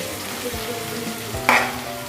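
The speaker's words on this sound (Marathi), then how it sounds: "तेही चांगले परतवून घेऊया आपण त्याच्यामध्ये तेलामध्ये" Spring onion stir-fried in hot oil over a high gas flame for Chinese noodles, giving a steady soft sizzle with a brief scrape of stirring near the middle and no talk.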